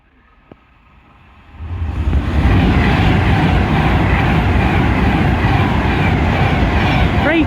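A Pendolino train passes through Nuneaton station, building from quiet to a loud, sustained rushing roar that holds steady as it goes by.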